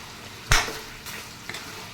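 Fish frying in a pan for a sweet-and-sour style dish with chili makes a steady oily sizzle with a few sharp utensil stirs and scrapes, close and moderately loud, with no talking.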